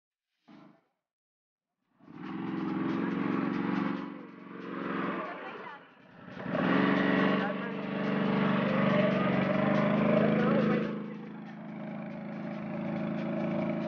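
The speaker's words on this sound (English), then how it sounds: "you can enjoy the ATV ride" An ATV ridden on the Nubra sand dunes in Ladakh drones steadily, the engine rising and falling as it revs, mid-distance and fairly loud, with a brief tap before it starts.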